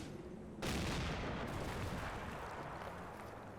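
Mortar fire in a video game: a heavy boom bursts in about half a second in and is followed by a sustained rumbling barrage. The sound is fairly faint and distant, with no talk.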